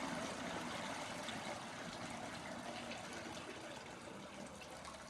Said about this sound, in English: pour the steeping liquid